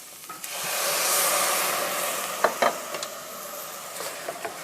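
Water poured into a hot pan for garlic soup sizzles and hisses steadily while being stirred, with a few scraping knocks of the utensil toward the end, close and moderately loud.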